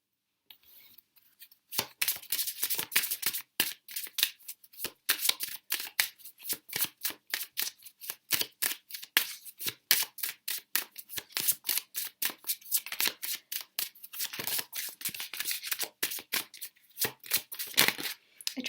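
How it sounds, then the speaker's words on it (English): Tarot cards are shuffled by hand in a long run of quick, crisp riffling flicks, close and fairly quiet, with brief pauses between bursts and no talk. "I try to shuffle on camera"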